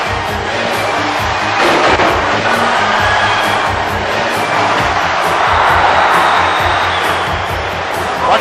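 Crowd in a wrestling video game roars continuously, a loud broad wash of cheering that swells and falls, with commentary voices talking over it.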